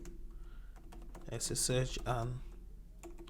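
Rapid clicking on a computer keyboard, continuous and close, with someone speaking briefly over the typing in the middle.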